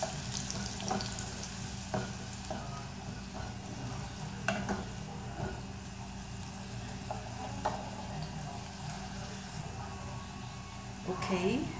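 Garlic frying in a pan gives a soft, steady sizzle with occasional scrapes and clinks of stirring, faint and close, with a brief voice near the end.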